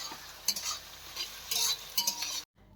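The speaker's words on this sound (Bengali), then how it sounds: "এদিকে চিকেনটা কষানো হচ্ছে" Chicken being stir-fried in a pan, quiet background sizzle punctuated by several bursts of spatula scraping and stirring, then a sudden brief cut to silence.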